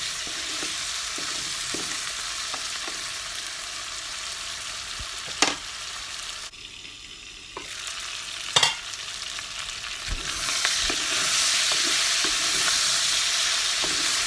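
Pork with sparrow gourd frying in a pan, giving a continuous close sizzle that rises and falls, with a few sharp clicks of a utensil and a brief quieter stretch midway, no talking.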